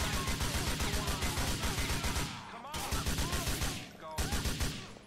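Rapid bursts of gunfire in the Grand Theft Auto 4 video game, dense repeated shots in two long volleys broken by short pauses, loud and close, with speech faintly beneath.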